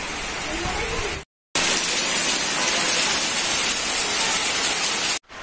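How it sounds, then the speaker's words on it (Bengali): Heavy rain at a village market makes a dense, even hiss of downpour, close and constant, broken by two brief dropouts into silence. "ভরপুর বৃষ্টি হইতেছে"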